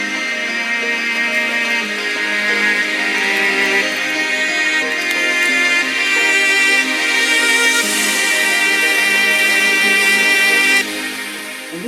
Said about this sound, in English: it kind of felt a bit empty, so we decided to add some calm strings.